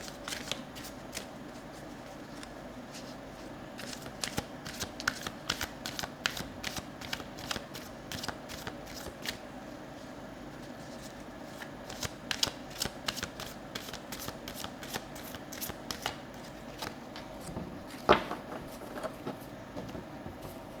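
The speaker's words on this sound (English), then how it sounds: "I'm just going to pull out one more card, okay, regarding this energy." Tarot cards are shuffled and drawn in a quiet room, producing rapid, papery riffling clicks and soft slaps that continue steadily throughout, with one sharper snap near the end and no talking.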